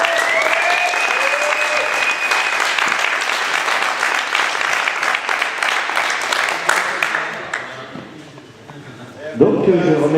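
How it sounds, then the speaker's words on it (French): A large audience at an awards podium ceremony claps loudly and steadily for several seconds, the dense applause then thinning out before a short burst of noise near the end. "Bah alors on peut applaudir très fort."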